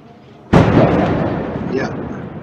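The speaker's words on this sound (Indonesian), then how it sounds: "kita lihat seberapa dahsyat bom ini ya" A bomb from an Israeli military strike hits a building: a sudden loud blast that lingers as a long, dense rumble and debris roar, slowly fading.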